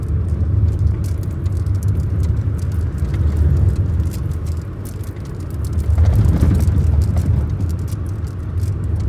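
Continuous low engine rumble of a manual car after a downshift on a hill road, with road noise, dipping slightly in the middle then rising and growing louder, steady throughout with no talking.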